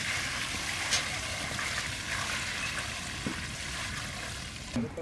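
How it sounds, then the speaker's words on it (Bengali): Cold water runs steadily over beef kidney being rinsed in a kitchen, a continuous trickling wash with a few small clinks, fairly close and without talk. "এখন আবার ঠান্ডা পানি দিয়ে ধুয়ে নেই"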